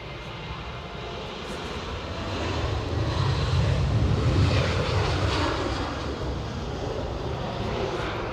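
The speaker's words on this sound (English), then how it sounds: "This Ryanair is going to Shannon." Ryanair airliner passing close at Edinburgh Airport: a loud, broad jet roar that builds to a peak midway, then eases into a steady rumble with wind noise.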